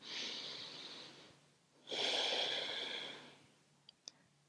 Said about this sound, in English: Let's just take a final breath in and out.